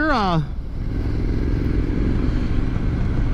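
A 2023 Triumph Scrambler 900 motorcycle rides along with a steady engine rumble up close, after a brief rising rev at the start.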